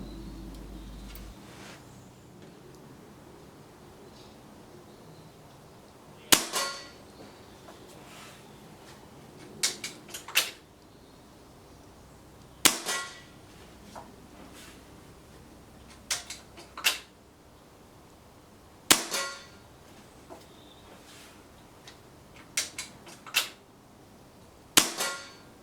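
Armex Airstream air rifle firing pellets in a pellet test: a series of sharp, loud cracks spaced several seconds apart, some followed by a quick second snap, over a quiet outdoor background hiss.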